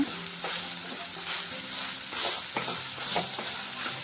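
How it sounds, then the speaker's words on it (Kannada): Soaked soya chunks fry with turmeric in oil in a pan, a close, steady sizzle broken by scraping stirs and soft clinks of a spatula, with no talking. "ಸ್ವಲ್ಪ ಅರಶಿನ ಹಾಕ್ಕೊಂಡು ಸೋಯಾನ ತಿಂದ್ಕೊಂಡಿರೋ ಸೋಯಾನ ಹಾಕ್ಕೋತಾ ಇದ್ದೀನಿ ಒಂದೆರಡು ನಿಮಿಷ ಈ ಥರ ಹುರ್ಕೊಳ್ಳೋಣ"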